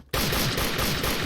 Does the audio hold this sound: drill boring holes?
no